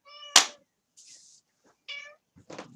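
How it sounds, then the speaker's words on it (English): A domestic cat meows several times for attention, fairly close and clear, with short harmonic cries separated by pauses and one rougher, breathier call. "you might be able to hear that. I'm not sure, but a cat wants attention."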